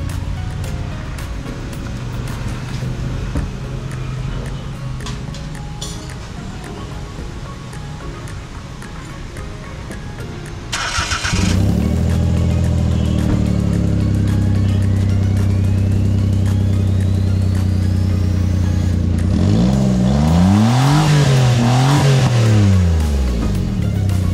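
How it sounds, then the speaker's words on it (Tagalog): A Suzuki Every Wagon engine starts partway through and settles into a loud, close idle, followed by several rising and falling revs near the end, with no talk over it. "Tunog ng ating sasakyan mga kol."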